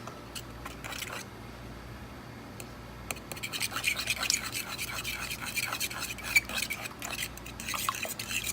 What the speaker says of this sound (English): So I'm going to stir in these eggs.